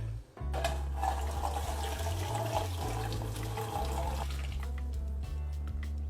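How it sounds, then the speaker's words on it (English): Really hot cooking liquid and ham from a pan poured into a colander in a kitchen sink, a continuous close rush and splash of liquid with a low rumble underneath, steady throughout with no talking. "pour the really, really, really hot pan into that to catch the juices and hold the ham"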